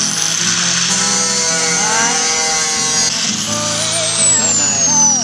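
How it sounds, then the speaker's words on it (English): An angle grinder scores a steel stud for tiny house framing, its disc whining loud and continuous with shifting pitch as it bites into the metal. "I take my angle grinder and I score down on the lines that I made."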